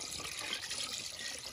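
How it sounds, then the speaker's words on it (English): Water runs steadily into a camper's tank from a container, a soft continuous hiss and trickle with no talking. "And this is how we fill our tank."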